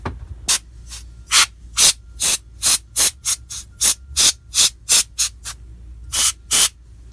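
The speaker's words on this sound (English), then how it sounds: "I'm gonna hit it with some compressed air." Compressed air blasting dust out of an opened MacBook Pro, about fifteen short, sharp hissing bursts in an uneven rhythm, close and loud with quiet gaps between.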